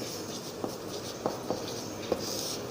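Pen or marker writing the word "apple" by hand on a board or page, soft scratchy strokes with a few light taps, quiet and close over a faint background hiss.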